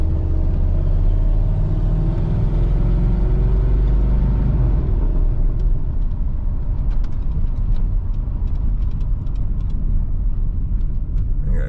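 A Squarebody Chevrolet C30 truck idles and rolls slowly with a loud, steady low engine rumble, close by, with faint clicks and rattles creeping in toward the end.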